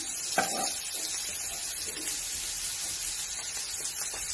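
Onion and cabbage frying in oil in a pan, a steady loud sizzle and hiss with a few light stirring knocks, no talking over it.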